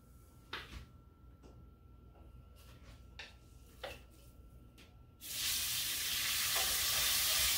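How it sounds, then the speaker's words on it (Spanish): Meat dropped into about three spoonfuls of hot olive oil in a caldero pot: a few soft clinks and scrapes, then a sudden loud, steady sizzle of frying that continues. "Ustedes oyen cómo suena el caldero."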